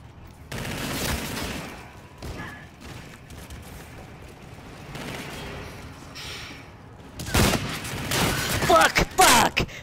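Sniper rifle gunfire in Call of Duty: Infinite Warfare multiplayer, with sharp loud shots and bursts of battle noise clustering near the end over a busy game backdrop.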